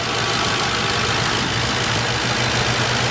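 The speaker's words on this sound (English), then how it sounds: "Electric fan" An electric cooling fan runs on a 2011 Ford Crown Victoria Police Interceptor, a loud steady broadband whoosh with a low rumble underneath, continuous and close, no voices.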